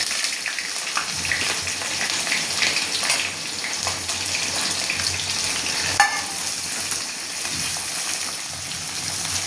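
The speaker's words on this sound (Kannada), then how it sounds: "ಈರುಳ್ಳಿ ಚೆನ್ನಾಗಿ ಫ್ರೈ ಆಗಬೇಕು ಹಾಗೆ" Onions frying in a pan for a North Karnataka kadalekalu usali, giving a continuous hissing sizzle with soft stirring scrapes and one sharp clink near the end, nothing spoken over it.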